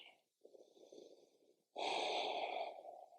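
Slow breathing in child's pose during a yoga session, a soft breath, a quiet pause, then a longer airy breath followed by a louder, fuller exhale, all close and alone.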